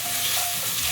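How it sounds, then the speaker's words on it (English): Bacon fries in a pan as a dense, continuous crackling sizzle, loud and close, with no voices. "nothing like bacon frying in a pan"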